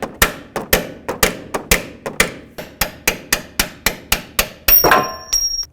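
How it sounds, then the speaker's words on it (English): Sharp metallic hammer strikes ring out in a steady rhythm, about fifteen close blows on a punch driving out lateral link bolts on a Dodge Journey, the last few louder with a clanging ring. "I'm going to take a hammer and a punch, and I'm going to carefully try driving these out of here."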